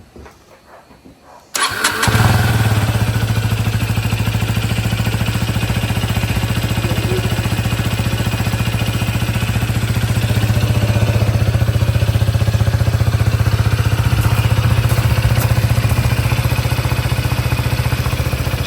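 A cold Husqvarna 401 motorcycle engine fitted with a BMC racing air filter is started with a brief crank, then settles into a loud, steady idle that continues unbroken.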